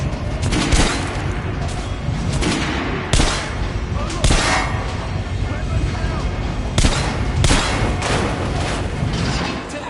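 Rapid video-game gunfire hammers an armored training dummy on a PS4 shooting range, dense loud bursts of shots with sharp cracks, while a voice talks underneath.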